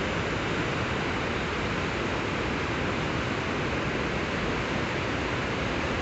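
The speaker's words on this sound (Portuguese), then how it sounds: "essa linda cachoeira que você se vê aqui, ó." A waterfall formed by water released from the Jati dam in Ceará, Brazil: a steady, dense roar of falling water, loud and close, unbroken with no voices over it.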